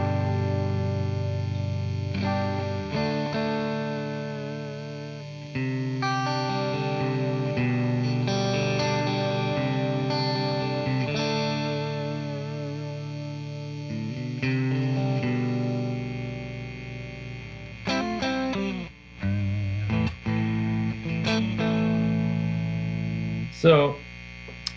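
A Fender Stratocaster electric guitar with volume and tone controls turned fully up rings out through effects in sustained, slightly distorted chords over a steady mains hum, giving way to sharper picked notes and scrapes near the end.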